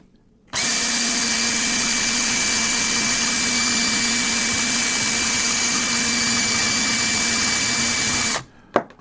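A power tool grinds down a paracord fid, running as a steady, loud, high-pitched whine that starts abruptly and cuts off after about eight seconds.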